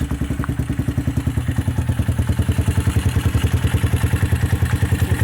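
A Bashan Brozz 250 motorcycle engine runs after a clutch change, its steady fast thumping idle loud and close with a regular mechanical clatter throughout.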